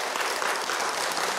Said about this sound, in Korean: 일단 박수 한번 합시다.